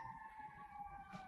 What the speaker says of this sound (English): Little New York City ambiance here with our ambulance.